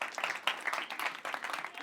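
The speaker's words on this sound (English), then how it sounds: "that's the last applause I want to hear during this class" An audience in an improv comedy class applauds, a dense, continuous patter of many hands clapping close by with no speech over it.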